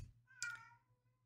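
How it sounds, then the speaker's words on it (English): A single short house cat meow in a quiet indoor room, faint and brief, rising then trailing off over a low steady background hum. "don't know if you just heard my cat"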